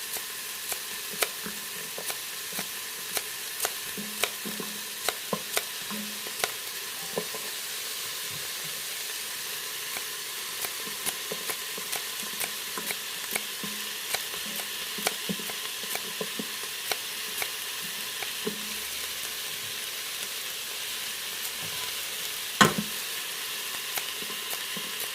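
Carrots frying in an Aicok electric multicooker, a steady close sizzle and hiss broken by frequent small scraping and tapping stirs, with one louder clack near the end.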